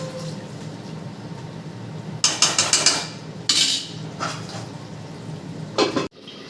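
Fish pieces are added to a fish curry already boiling in a pot. Short bursts of bright splashing sizzle rise over a soft bubbling simmer, with a clatter at the end.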